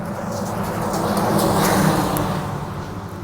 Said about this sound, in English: there's a loud truck coming by